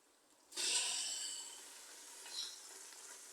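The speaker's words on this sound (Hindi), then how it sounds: "बीफ को ऑयल में तब तक भूनेंगे, तब तक पकाएंगे जब तक बीफ का रंग चेंज हो जाए।" Boneless beef hits hot oil with a sudden loud sizzle that gradually settles into a steady, softer frying hiss, with a brief swell near the end.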